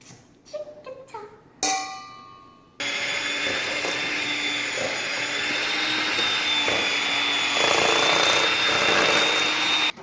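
An electric mixer blends sugar into cookie dough, starting after a few short knocks and clatters with a steady, close whirring drone that holds loud to the end.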